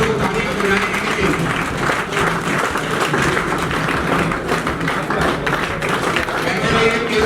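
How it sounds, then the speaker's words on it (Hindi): Audience clapping at a literary award ceremony in a hall, dense continuous applause filling the room with talk mixed in over it. "आप लोग तालियां बजाएंगे।"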